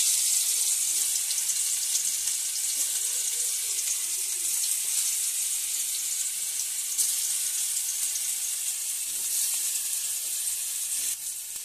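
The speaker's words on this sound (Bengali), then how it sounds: "তো কাঁচকলা ভাজাগুলো করে নিচ্ছি" Green banana slices fry in hot oil in a wok, giving a loud steady hiss of sizzling oil that runs unbroken and close throughout.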